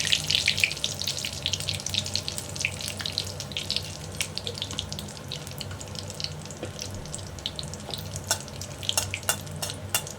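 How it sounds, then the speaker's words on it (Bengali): Cumin seeds, bay leaf and cinnamon crackle and sizzle in hot oil while tempering spices for a Bengali mutton biryani, a steady frying hiss broken by sharp pops and light stirring clicks, fairly close and alone. "ফোড়ন দিয়ে দিচ্ছি।"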